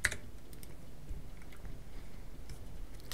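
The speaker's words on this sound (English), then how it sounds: "click here and then type Windows Update Settings" A computer keyboard typing in a Windows settings search box, quick faint clicks scattered through low background noise.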